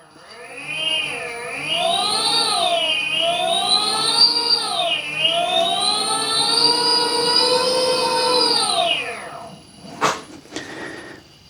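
A tubeless bike tire spun by hand to spread sealant gives a steady whirring hum that rises and falls in pitch for several seconds, then fades and ends with a few sharp clicks.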